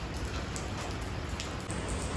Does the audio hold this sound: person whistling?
no